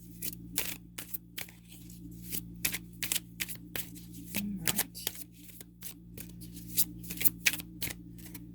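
Tarot cards being shuffled in repeated quick riffles, crisp close-up fluttering bursts in an uneven rhythm, with a brief spoken word.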